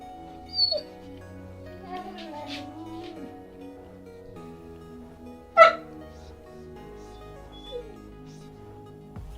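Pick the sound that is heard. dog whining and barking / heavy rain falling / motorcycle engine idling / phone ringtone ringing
dog whining and barking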